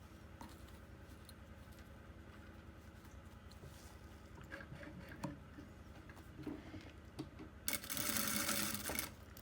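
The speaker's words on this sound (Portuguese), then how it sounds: "eu vou costurar me guiando aqui, ó, arrastando o calcador no carrinho do zíper" A sewing machine stitches steadily along a zipper, its presser foot riding beside the zipper slider, a low, even mechanical whir that quickens and grows louder near the end.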